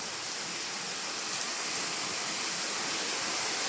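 Steady, dense hiss of heavy rain pouring down on a house, constant and fairly loud throughout, with no voices or breaks.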